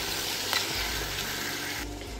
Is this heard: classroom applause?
no